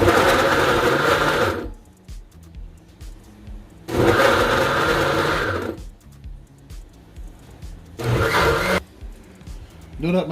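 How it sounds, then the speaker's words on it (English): A blender roars through cassava in three loud bursts of a few seconds each, separated by quieter pauses with faint background noise. "Now that my cassava finished blending"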